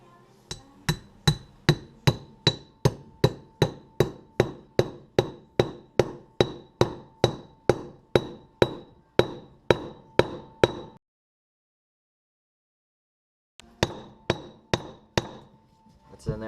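Steady, rapid hammer blows on metal as a lug stud is driven into a wheel hub, around twenty-five evenly spaced strikes, then a pause of a few seconds before a shorter burst of hits.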